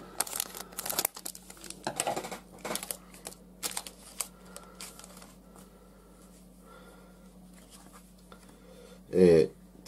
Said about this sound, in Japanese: で、最後の5パック目開封していきたいと思います。